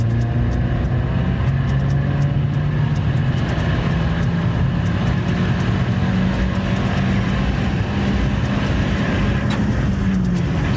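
A tuned Nissan GT-R engine on a dyno in a third-gear pull gives a loud, sustained drone whose pitch climbs slowly and steadily, with faint rapid ticking over the top.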